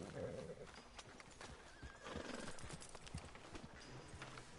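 A horse in the Red Dead Redemption II video game whinnies and snorts close by while its hooves clop, with faint talking in the background.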